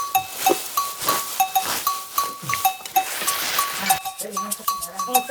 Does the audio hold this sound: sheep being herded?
yes